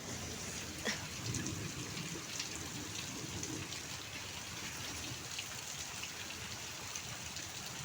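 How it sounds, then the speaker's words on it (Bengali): Heavy rain pours down outdoors in a steady, even hiss that stays constant throughout, with no voices. "এই দেখো আজকে বৃষ্টি পড়ছে প্রচুর"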